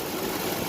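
A 2006 Nissan Titan pickup engine idles with a cold air intake fitted, a steady, loud, close mechanical hum with an even low rumble and no voices.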